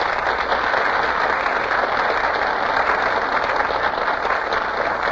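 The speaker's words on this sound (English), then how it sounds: "the audience bursts into applause" Studio audience at a radio broadcast applauding as the stars arrive, a dense, even wash of clapping held at a steady loudness throughout.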